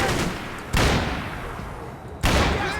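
Two heavy gunshot bursts from the video game Max Payne 3 crack out about a second and a half apart, each followed by a fading rumble.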